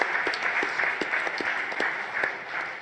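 A live audience claps during a Games Done Quick stream, with steady, dense applause that continues throughout without pause.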